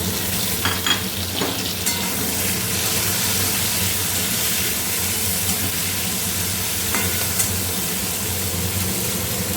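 Chopped tomatoes frying with ginger, garlic and spices for a paneer curry, a loud, steady sizzle and hiss with a few stirring scrapes, no voices.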